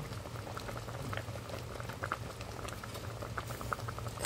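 Beef kaldereta with coconut milk boils steadily in a pot, with dense bubbling and popping close by and an even low rumble throughout, without any talk.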